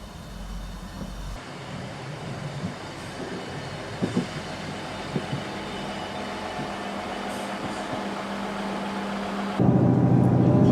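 A train rumbles and clatters along the rails into Newton St Cyres station on the Dartmoor Line, with brief metallic clunks and a steady low roar that swells louder near the end as it pulls in.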